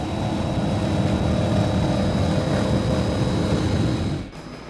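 A 515 powerboat with Mercury Racing 1550 engines roars loud and steady at close range during a poker run, dropping off abruptly near the end.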